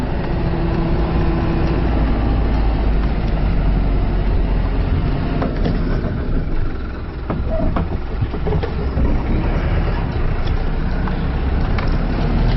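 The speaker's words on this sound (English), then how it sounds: "At the moment now we're just in first gear, about 2000, and we're only doing about 10 kilometers per hour." Toyota Coaster 2012 bus crawling along in first gear at low revs, a steady loud engine and road drone with rattles and cabin noise throughout.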